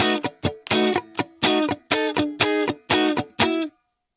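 Electric guitar chord shape with a descending melodic embellishment, played slowly as a series of short, choppy strummed chords with clear gaps, close and alone, then ringing out to silence.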